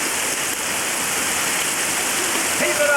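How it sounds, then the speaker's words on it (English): Steady rain falls outdoors in a dense, even hiss, loud and close throughout, on a moose hunt, with no clear gaps. "We got a little rain here."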